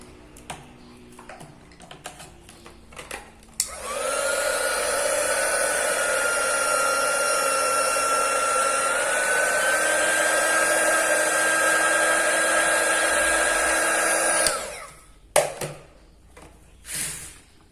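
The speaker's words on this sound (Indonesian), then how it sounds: "Oke, saya akan gunakan hair dryer untuk memanasi." A hair dryer runs for about eleven seconds to heat the screen of an Oppo A31 during an LCD replacement, switching on abruptly with a steady whine and broad rushing air, then cutting off, with faint handling clicks before and after.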